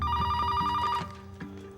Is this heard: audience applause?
no